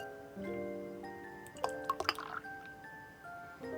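Christmas beer, a dark amber lager, is poured into a glass, a soft gurgling stream followed by a few quick drips and clinks, close and quiet under light background music.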